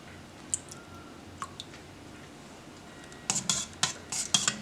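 A spoon clinks and scrapes against a bowl while sugar and vanilla extract go into homemade eggnog (rompope), with a few scattered taps early on and then a quicker run of close metallic clinks.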